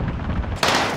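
A short burst of video game gunfire: a dense, rapid crackle of shots that jumps louder near the end, with no talk.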